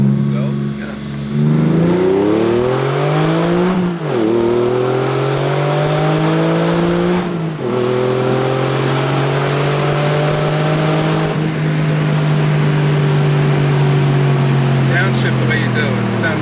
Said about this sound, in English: if you jump on the throttle and nail it, it will sound just like a factory cup car on the grid.